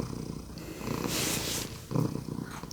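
A cat purrs close up with a low rumbling flutter, broken by a brief breathy sniff or snort partway through.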